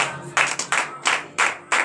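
A church congregation at a morning prayer service in Benin claps in rhythmic bursts of acclamation, close and lively, with a few quick uneven rounds of hands over under two seconds.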